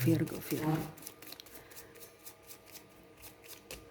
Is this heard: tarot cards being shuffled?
yes